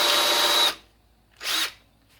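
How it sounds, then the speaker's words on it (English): A power drill fitted with a blunt bit runs in two bursts, a long close whine that cuts off, then a shorter run after a brief pause, working a part during a Toyota Starlet and Honda XL250 restoration. "trying to use a blunt drill bit and I can't see what I'm doing"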